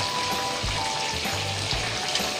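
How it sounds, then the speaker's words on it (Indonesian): Shrimp fry in hot oil for shrimp satay, a steady dense sizzle with occasional low bumps of stirring, close and continuous with no talk. "kita goreng sampai ya sampai kering aja jangan terlalu kering ya"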